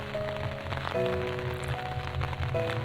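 Rain falling in a video game, a steady hiss of drops spread across the clip, sitting under soft, sustained background music with no talking.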